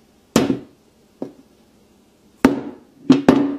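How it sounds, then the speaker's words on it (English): A Samsung Galaxy S6 Edge phone is dropped from a few inches onto a hard surface, giving five sharp knocks with quick ringing decay. The impacts fall irregularly, with one faint knock and three loud ones close together at the end. "we're actually just gonna drop the phone"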